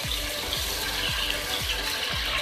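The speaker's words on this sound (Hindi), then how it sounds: "अब मैं इसमें पानी और ऐड करूँगी" Water poured into a pot of fried chicken during cooking, a close, steady splashing pour with repeated gurgling bursts, continuous and moderately loud with no talking.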